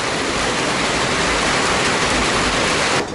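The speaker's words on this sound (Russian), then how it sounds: "Красивый садик, пошел прямо град, он меня по ноге ударил." Hail pours down hard and steady outside an Italian restaurant garden during a sudden storm. It makes a loud, dense hiss of falling ice and rain that lasts throughout, with no talking.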